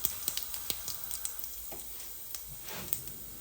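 Cumin seeds and bay leaves crackle and sizzle in hot oil, a faint steady frying hiss broken by sharp irregular pops and ticks, with no voices.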